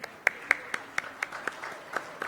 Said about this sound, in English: Can we have a round of applause for him here?